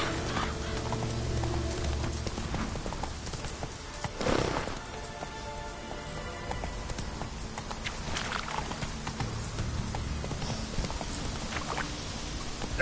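Horse hooves clip-clop in The Witcher 3 video game, with a steady walking rhythm under game music and ambient sound, plus a brief louder swell midway.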